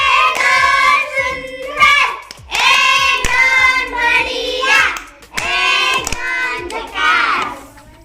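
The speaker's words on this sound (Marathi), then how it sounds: "तिच्यासाठी जोरदार टाळ्या वाजवा" Children applaud the winner of a puzzle game played by moving pens to form squares, clapping in sharp rhythmic bursts while loud young voices chant along in the room.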